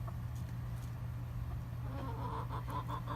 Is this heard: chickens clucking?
yes